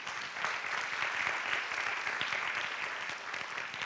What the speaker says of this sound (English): can we please have another warm round of applause for them?